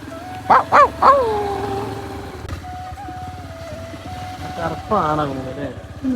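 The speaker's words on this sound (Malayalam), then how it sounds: "നായാണ്." A dog lets out three quick loud barks near the start, then a further burst of barking later, with a motorcycle engine idling and people talking around it.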